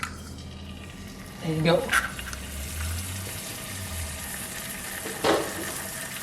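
An egg dropped into a hot cast iron pan gives a brief crackle and sizzle, with a second short burst a few seconds later over a steady low background, while a voice speaks briefly.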